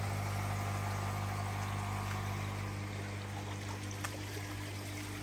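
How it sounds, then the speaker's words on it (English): A koi pond skimmer runs with water trickling steadily, a continuous close wash of flowing water over a low motor hum with no breaks. "turn the skimmer up a touch."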